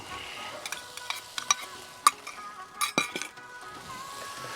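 Grey shrimp with heads on and small-diced carrots sauté in a pan with a soft sizzle under repeated clinks and scrapes of a utensil stirring against the metal.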